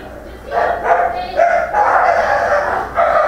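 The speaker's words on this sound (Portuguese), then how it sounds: "esse cachorro pequeno, quando resolve brigar, rapaz, é pior que cachorro grande." A small dog barks in a quick series of sharp, close yaps, loud and overlapping with other dog noise.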